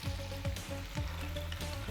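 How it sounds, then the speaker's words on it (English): Bacon frying in a pan until extra crispy, a steady crackling sizzle with repeated sharp pops and spatters close by. "our bacon is getting there, slowly but surely getting nice and toasty how we want it, extra crispy"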